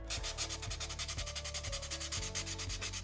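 Sandpaper is rubbed by hand over a handmade piece in steady, rhythmic back-and-forth strokes, close and continuous, with a gritty scratching texture and no voices.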